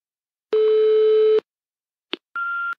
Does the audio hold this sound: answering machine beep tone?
yes